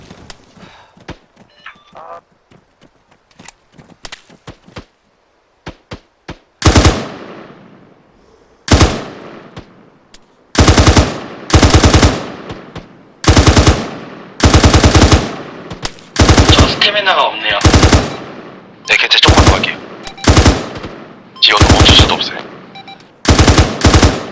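Gunfire in the military game ARMA 3 during an assault on Taliban forces: faint distant pops at first, then loud close bursts of automatic fire repeating in heavy volleys with brief gaps.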